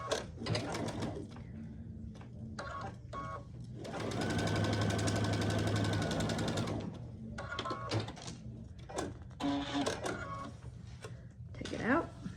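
A sewing machine stitches diagonally across fabric pieces for a pumpkin door hanger, running in one loud, steady burst of about three seconds. Before and after the burst, a person talks and there are small handling clicks.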